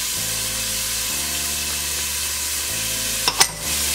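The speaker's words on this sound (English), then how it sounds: "So we're gonna saute them." Onions with minced garlic sautéing in a pan give a steady, close sizzle with a few brief stirring scrapes near the end.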